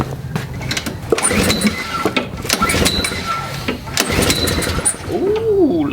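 Small engine, choked, cranked with its starter, giving a busy rattling mechanical churn that runs continuously, close and loud, with no talk.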